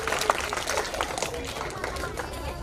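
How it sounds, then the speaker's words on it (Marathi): Applause from an audience of students for their parents at a school parents' event: a steady, dense wash of clapping across the whole moment, with crowd noise and voices mixed in. "चला विद्यार्थी मित्रांनो, जोरदार टाळ्या आई बाबांसाठी."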